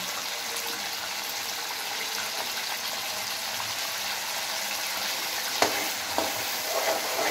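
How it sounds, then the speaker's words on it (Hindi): Chicken pota kaleji fries with chopped tomatoes in a dhaba-style pan, a continuous dense sizzle with stirring and a couple of sharp utensil knocks near the end, no talking. "कितनी देर भूनना है इसको ये तकरीबन कोई दो से तीन मिनट ही भूनना पड़ेगा"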